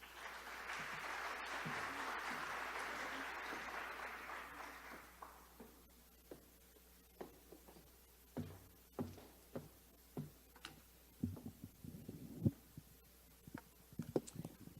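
An audience applauds to welcome Adriana Rivera, a franchise company CEO, onto the stage at a business talk. Dense, steady clapping lasts about five seconds, then fades into scattered knocks and thumps.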